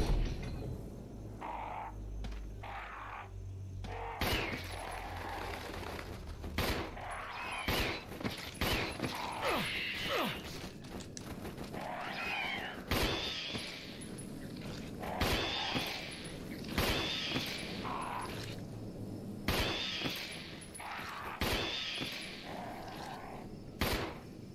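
Sharp gunshots from the video game Resident Evil Remake ring out one at a time at irregular intervals, fairly quiet, with mechanical clicks and eerie creature sounds between them.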